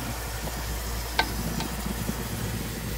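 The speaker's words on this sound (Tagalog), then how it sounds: "Haluin natin." Caldereta sizzles steadily as it fries in a pan while being stirred, with a brief scrape of the utensil and a constant close hiss throughout.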